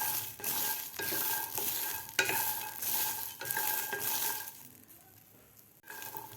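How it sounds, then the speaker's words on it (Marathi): Green peas roast uncovered in a pan with green chilies and ginger. Continuous close stirring and frying sizzle run in rhythmic sweeps, then briefly drop quieter near the end before resuming. "दोन ते तीन मिनिट झाकण न ठेवताच मटार भाजून घ्यायचे आहेत"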